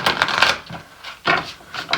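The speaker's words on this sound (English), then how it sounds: "I'm having a little bit of trouble shuffling" Tarot cards shuffled by hand in short bursts of crisp riffling and slapping, with quiet gaps between three clusters of sound, close and fairly loud with no talk.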